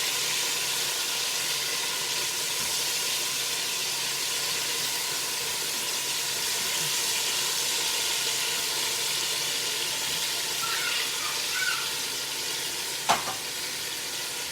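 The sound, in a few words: food sizzling as it starts cooking in a pot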